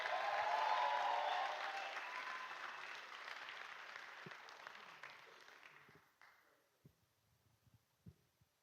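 Applause with cheering from an audience at a church talk, loud at first and then fading gradually into a few scattered claps.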